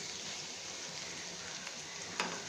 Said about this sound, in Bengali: হালকা হাতে হালকা করে ভেজে নেবেন